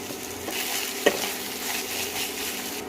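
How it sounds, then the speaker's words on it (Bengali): Ginger and garlic fry in oil with a bay leaf, cumin seeds and chopped onion while a spoon stirs the pan, a base for spinach pulao. A constant close sizzle runs throughout, with one sharp utensil tap. "আদা রসুনটা ভাজা হয়ে গেছে।"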